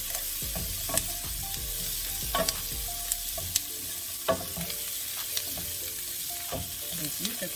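Celery sizzles and crackles steadily in a hot pan with teriyaki beef and noodles, a constant frying hiss broken by sharp clacks and scrapes of stirring, with no talk.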